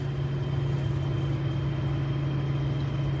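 A 1976 Datsun 280Z engine idles steadily up close with a low, even hum and faint irregular crackling beneath it.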